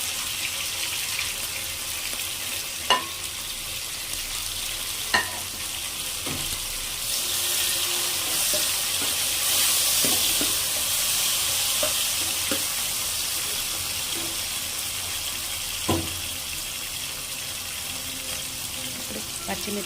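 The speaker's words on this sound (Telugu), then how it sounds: "కొద్దిగా పసుపు వేసుకున్నామంటే తొందరగా ఉల్లిపాయలు వేగిపోతాయి." Sliced onions fry with turmeric in a pan, giving a continuous, close sizzle that swells briefly midway, with occasional sharp taps of a utensil against the pan.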